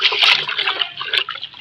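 Mop water poured from a bucket into an open household drain, a steady close splashing trickle with broad hiss that swells and eases over under two seconds, with no talk.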